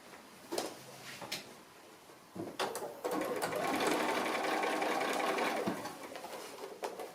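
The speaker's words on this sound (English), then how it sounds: "I'm just stitching either side of the binding," A sewing machine stitches along both sides of the binding near the fold of a fabric basket made from 2½-inch strips. A steady whirring run fills the middle few seconds, framed by shorter bursts and clicks, close and alone.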